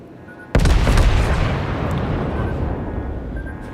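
The rear guns of the Kriegsmarine battleship Tirpitz fire in World of Warships, a single heavy, loud boom with a long rolling rumble fading away and no voices.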